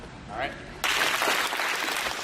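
A group at a band clinic breaks into loud, dense clapping after a brief spoken word, the clatter of many hands filling the room and continuing steadily to the end.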